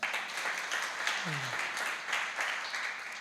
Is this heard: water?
no